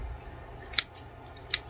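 Two crisp snips of scissors cutting through ham, spaced under a second apart, sounding close against quiet kitchen background.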